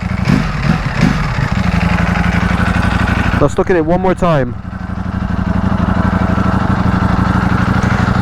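A 2020 Ducati Panigale V2 idles with a steady, close mechanical throb and clickety-clackety clatter, while a brief throttle blip rises and falls in the middle, and someone talks briefly at the start.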